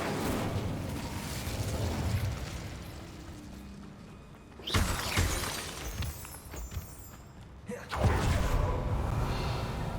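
An Incendio fire spell cast in the Hogwarts Legacy video game: a sudden whooshing burst of flame lands mid-clip and a second roaring blast follows, loud and near, over a dense rumbling game soundscape.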